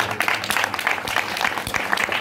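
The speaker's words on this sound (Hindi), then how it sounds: "एक बार तालियां बजाइए" A congregation at a Christian worship service claps together in a short, even burst of steady applause, close and fairly loud, with no talking.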